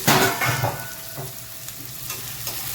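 Two medium onions, finely chopped, sauté in hot oil in a pan while being stirred, giving a close sizzle and crackle with scraping stir sounds, loudest at the start then settling to a softer fry.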